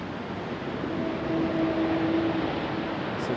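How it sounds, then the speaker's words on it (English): A Southwest airliner touches down at Raleigh-Durham International Airport in stormy weather, giving a steady, sustained roar of jet engines with a faint whining tone drifting through it, fairly distant and unbroken. "Southwest touches down safely"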